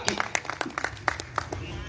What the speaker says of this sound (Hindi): मैं चाहता हूं आप लोग दोनों हाथ उठाकर तालियां बजाइएगा